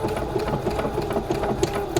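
A sewing machine stitches fabric along a straight guide line with a fast, steady mechanical clatter of evenly spaced needle strokes, close and continuous, with no talking.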